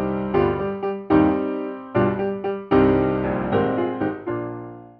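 Orchestral theme from the third movement of the Arrhythmia Suite, a symphonic piece depicting ventricular ectopics and short ventricular tachycardia; sustained chords in irregular phrases with sudden swells and pauses mimicking an uneven heartbeat, heard alone with no talking.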